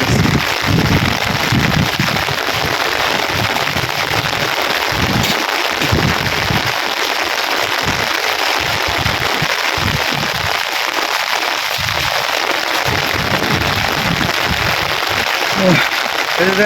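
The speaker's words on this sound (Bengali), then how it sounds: "প্রচুর পরিমাণে বৃষ্টি" Heavy, steady rain pours over a deserted village during a prolonged downpour, a dense continuous hiss filling the whole clip with no pauses, loud and close.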